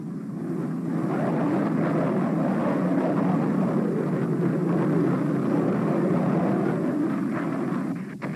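A B-52 bomber flies over Khe Sanh in 1968, a loud, steady engine drone that holds evenly for the whole stretch with no voices.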